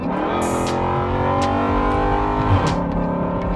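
A Chrysler 300 SRT8 sedan accelerates hard, its engine giving a loud, steady, close-up roar with a rising tone that runs unbroken through the whole stretch, with no one talking.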